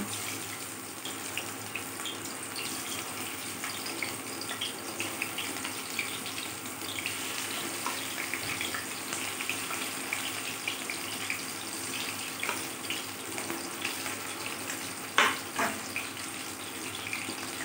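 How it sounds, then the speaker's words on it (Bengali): Baby corn pieces frying one by one in oil on a lowered gas flame for crispy chilli baby corn, an even, watery sizzle with a sharp pop near the end. "আমি তেলের মধ্যে আলাদা আলাদা করে দিয়ে দিচ্ছি বেবিকর্নগুলোকে ফ্রাই করার জন্যে"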